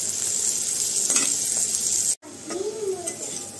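Bitter gourd (karela) sizzles steadily in a frying pan, a close, continuous hiss with faint scraping, broken by a brief cut of silence before the frying resumes with a voice over it.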